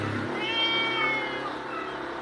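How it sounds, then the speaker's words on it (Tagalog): A cat meows in a drawn-out, wavering call lasting about two seconds. It sounds fairly close and stands alone, with low background noise beneath it. "May pusa pa ako dito."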